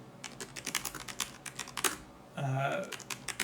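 Typing on a computer keyboard, a quick run of light clicking keystrokes up close, followed by a brief louder scraping burst near the end.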